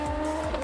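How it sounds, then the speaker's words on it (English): A race car's tires squeal as it snaps into oversteer in the Le Mans Ultimate racing game, a brief sustained screech over steady engine drone. "Snap of oversteer."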